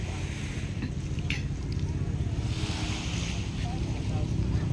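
Sea waves wash continuously along the boulevard beach at Bauan, Batangas, a steady rushing surf mixed with wind buffeting the microphone, with people talking faintly nearby.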